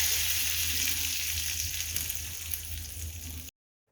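Mustard seeds, dried chillies and curry leaves sizzle in hot coconut oil for a chutney tempering, giving a close, steady frying hiss that fades slightly before cutting to silence.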